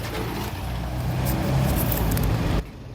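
Tata Nexon engine running at about 2,500–3,000 RPM, a steady loud low drone with road-like rumble that holds for most of the clip before dropping off sharply near the end.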